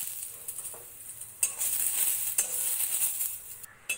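Cashew nuts frying in a wok for restaurant-style veg fried rice, a steady soft sizzle with occasional stirring clinks and scrapes, close and continuous with no talking.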